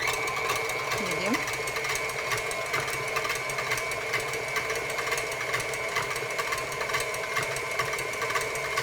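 Electric mixer whipping heavy cream on medium speed, a steady whirring buzz running throughout at constant loudness, with someone talking over it in a kitchen.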